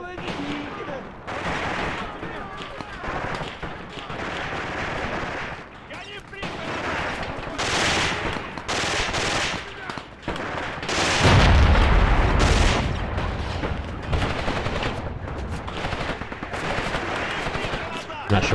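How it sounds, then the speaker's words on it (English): Heavy gunfire and artillery in the WWII tactics game Graviteam: Pivot Point, with sustained crackling shots and a deep booming blast midway, loud and continuous throughout. "Not sure what that artillery piece fired at"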